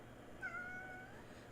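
A pet kitty lets out a single drawn-out, faint meow lasting about half a second, with no one talking over it.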